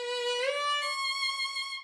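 A bowed string instrument holds a bright sustained note, then shifts position with a quick slide upward before settling on the new pitch, played alone at moderate volume.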